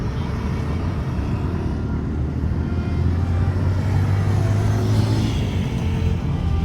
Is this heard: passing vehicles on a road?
yes